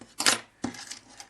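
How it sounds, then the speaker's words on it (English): Scissors snipping through yarn while crocheting a jumping spider toy: two quick, close metallic snips, each a short crisp burst, about half a second apart. "Cut it with the scissors"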